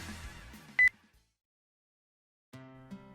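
A short, sharp electronic beep as a phone call is ended, followed by a brief silence and then a soft tonal musical swell.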